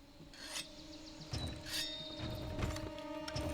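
A weapon sharpened with a whetstone in Monster Hunter while using the Hunting Horn makes rhythmic rasping scrapes that repeat over several seconds, steady and close against a faint game backdrop.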